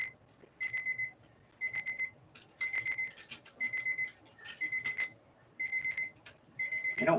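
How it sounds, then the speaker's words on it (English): A timer alarm goes off, beeping in regular repeated bursts about once a second, clear and steady against a quiet background. "The timer has gone off."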